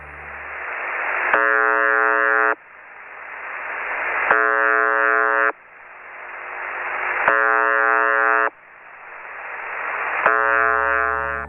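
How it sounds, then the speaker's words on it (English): Shortwave radio station UVB-76 sends a harsh, monotonous buzz tone in short bursts, repeating about every three seconds over a hiss of static, four tones in all. "a shortwave radio station that broadcasts a short, monotonous buzz tone"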